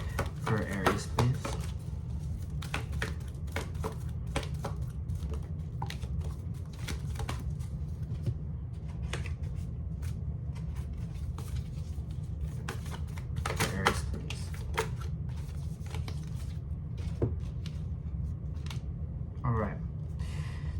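Oracle cards are shuffled and drawn by hand, with soft repeated riffling and quick papery flicks and taps scattered through the stretch over a low steady room hum, close and fairly quiet.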